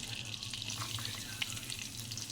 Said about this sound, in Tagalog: Gigisa tayo ng bawang.